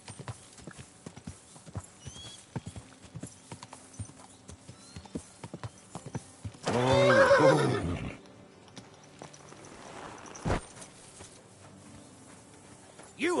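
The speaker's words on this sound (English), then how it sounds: "Easy, good horse." Horse in the Kingdom Come: Deliverance II video game: a steady clip-clop of hooves, then a loud neigh and whinny lasting about a second, followed by snorts and further hoofbeats.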